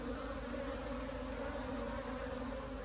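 Honey bees buzz around an opened hive during an inspection, a dense, steady hum that fills the whole stretch at moderate volume with no pauses and no voices.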